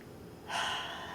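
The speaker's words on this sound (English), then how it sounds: "You can take an inhale on I" A single quick, sharp inhaled breath taken through the nose and mouth during a guided affirmation exercise, close and clear after a short quiet pause.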